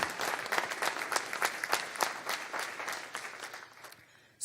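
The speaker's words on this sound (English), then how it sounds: "give them a round of applause" Audience applause at a First Friday community event, a steady wash of many hands clapping that gradually thins and fades toward the end, with no one speaking.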